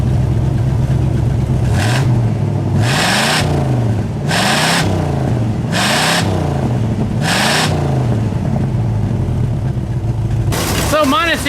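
Pontiac Bonneville engine running with the exhaust leak repaired, a steady loud rumble broken by five rhythmic surges about every 1.5 seconds, then a final burst of higher whirring noise at the end.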